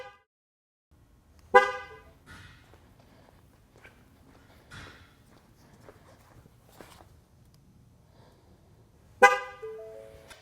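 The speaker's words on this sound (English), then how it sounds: "Once you get it right, the horn's going to honk." A Ford Mustang (S550) car horn gives two short, loud honks about eight seconds apart during tire pressure sensor training, with quiet shuffling and small handling noises in between.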